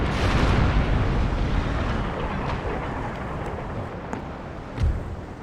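Heavy naval cannon broadside from sailing warships in the game Empire: Total War, a dense rolling roar of booms with a few sharper thuds near the end, loud and without voices.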